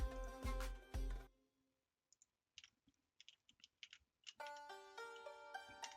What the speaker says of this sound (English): I think I need to clean my mechanical keyboard because I think that key is sticking a little bit